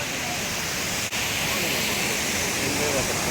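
Shifen Waterfall in Taiwan roars as a steady, broad wash of rushing water, loud and continuous with no breaks, heard up close from near the hanging bridge.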